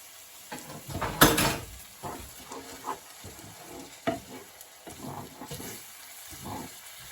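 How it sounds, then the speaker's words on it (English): Quick-cooking salad bulgur is stir fried in the same pot used for garlic butter mushrooms, with scraping, clattering spoon strokes and a light sizzle in short irregular bursts, close by and fairly loud, one harsher scrape standing out early. "So I'm just going to stir fry this in here quickly."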